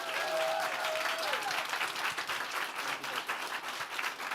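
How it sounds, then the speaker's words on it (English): A crowd at an author event in Ann Arbor gives a final warm round of applause for the author, a continuous wash of clapping from many hands with a faint tone briefly sounding at the start. "let's give Margaret Killjoy one last warm round of applause"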